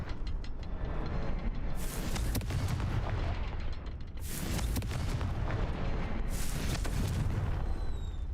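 Confringo blasting spell explosions in Hogwarts Legacy, three heavy booming blasts with roaring rumble between them, loud and close.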